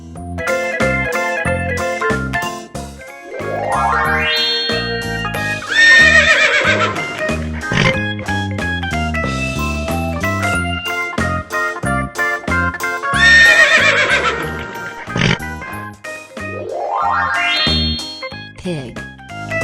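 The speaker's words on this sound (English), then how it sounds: "Horse." A farm horse neighing in a few loud, shrill whinnies that rise and fall, with hoof clip-clops and playful music underneath.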